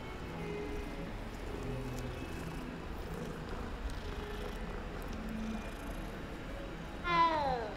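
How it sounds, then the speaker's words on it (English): A cat in the video game Hogwarts Legacy gives a single short meow near the end, rising clearly above a steady hushed game ambience. "You know we have to pet the cat,"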